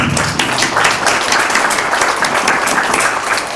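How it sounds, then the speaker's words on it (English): A loud, sustained round of applause from an audience at a commemorative event, many hands clapping steadily throughout with no voices breaking through. "let's give a round of applause to Liz"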